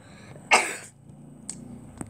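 A single sharp cough bursts out nearby, followed by a quiet pause and two faint clicks.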